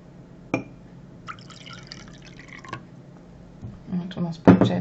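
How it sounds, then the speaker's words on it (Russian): Room-temperature water poured over thyme and willow-herb tea in a glass, a few drips and clinks followed by a louder splashing pour at the end, with quiet background. "давайте зальем водичку"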